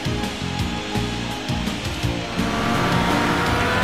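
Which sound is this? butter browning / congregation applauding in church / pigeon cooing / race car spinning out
race car spinning out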